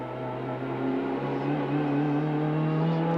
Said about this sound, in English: You hear that turbo come on like a bomb.